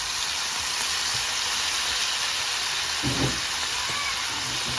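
Red amaranth greens sizzling in a pan with hilsa fish, a steady, fairly quiet frying hiss with a few soft clinks and bumps partway through, no voices.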